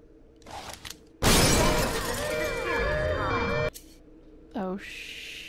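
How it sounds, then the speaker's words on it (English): Glass shatters loudly in BioShock, a sudden burst of breaking and tinkling shards that rings on for a couple of seconds before cutting off, with brief mechanical game sounds around it. "Can I break the glass?"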